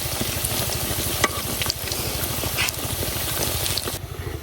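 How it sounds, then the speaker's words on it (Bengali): Muitha pitha, traditional Netrakona rice cakes, sizzle steadily in hot oil in a pan after being flipped, a close, continuous crackling hiss with a few brief louder pops and no talk. "পিঠাগুলা একটা সাইড মোটামুটি ভাজা হয়েছে, এখন আরেকটা সাইড উল্টাই দিলাম"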